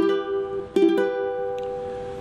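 Ukulele chord strummed on a single stroke that rings out and sustains, a second quick strum adding brief accents before the notes decay softly, with no talking.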